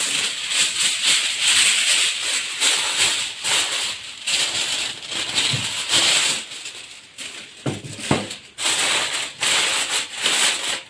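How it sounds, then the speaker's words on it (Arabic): Aluminium foil crinkling and rustling close up as it is pulled over a baking tray of stuffed chicken and vegetables, in bursts of crackling and rubbing, no talk. "واغطيها بقى بفويل."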